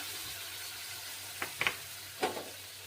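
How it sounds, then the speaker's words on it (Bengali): Ginger paste, poppy-melon seed paste and cashew-raisin paste fry in oil for an aloo dum. A quiet, even sizzle runs throughout, broken by a few brief scrapes of a spoon against the pan. "এবার এগুলি আবার আমি ভালোভাবে কষিয়ে নেব"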